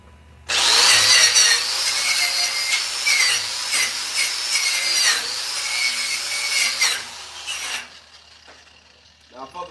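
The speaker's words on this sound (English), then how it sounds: "I'm using the grinder with the rod brush, because as we know, that 60-10 slag can get a little" An angle grinder with a wire rod brush scrubs slag off a 6010 stick weld. It makes one loud, sustained, whining, scratchy grind for about seven seconds, then cuts off and leaves quiet shop noise.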